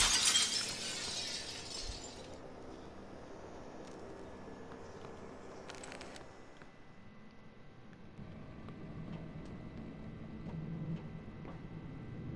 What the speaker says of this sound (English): But I do like smashing things.